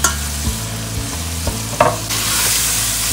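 Chicken pieces and garlic fry in a hot pan, a loud steady sizzle with a few spatula knocks and scrapes against the pan as they are stirred, the frying hiss swelling brighter near the end, close up, no voices.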